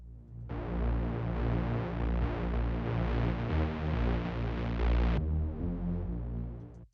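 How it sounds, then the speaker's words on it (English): A bassline built in FL Studio for a track's break and drop plays loud and steady, a thick low synth sound with a pulsing rhythm that runs for about five seconds and then thins out before it cuts off. "I'm using two type of bassline, one for the break and the other one for the drop section."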